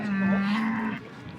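A cow at a livestock sale, likely a young heifer or calf, gives one loud, close, sustained moo that fades out, with little else around it.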